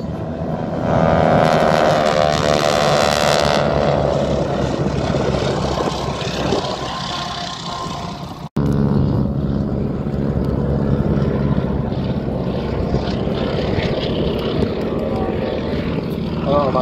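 At an air show, a propeller aircraft with a Pratt & Whitney 450 horsepower 9-cylinder radial engine gives a loud, continuous, throbbing engine roar. The pitch shifts as it passes, with an abrupt cut midway.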